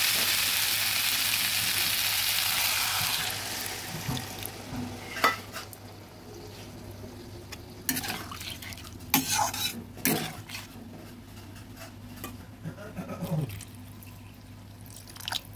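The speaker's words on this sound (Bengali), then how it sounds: "সব কপি আলু টমেটো সব সুন্দর ভাজা হয়ে গেছে। এবার দিয়ে দেবো জল।" Water pours into a pan of frying cauliflower, potato and tomato for a fish curry, a loud hissing sizzle that fades into quieter bubbling with clinks of a spoon and lid.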